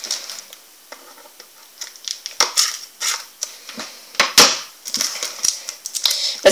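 A newly bought item from a discount store being unwrapped nearby: irregular crinkly tearing and rustling of packaging in close, bursty handfuls, growing busier and louder as it goes, with no speech.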